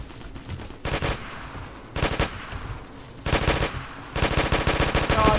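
Automatic gunfire from a Roblox neighborhood war shooter, four long rapid bursts separated by short pauses, loud and close, with no talking during the shots.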